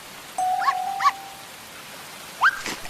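A dog on a rainy day gives a few short, high whimpering yelps, two close together and then one more after a pause, fairly clear against a quiet background.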